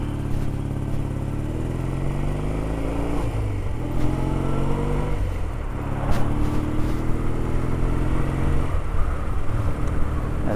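Motorcycle passing on a Cotswolds country road, heard from aboard a running-in BSA 650 A10 whose loud, steady engine drone fills the clip, with a few rising revs and swells as the other bike goes by.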